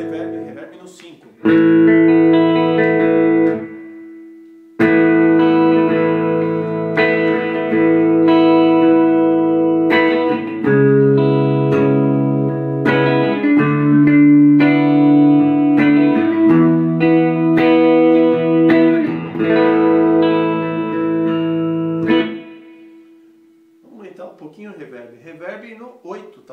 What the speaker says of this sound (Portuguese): Aumentando o reverb. Reverb no 5.